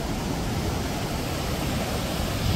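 Forceful flow of the Kaveri river at Mekedatu, a dense, steady roar of rushing water filling the whole clip, loud and close with no voices.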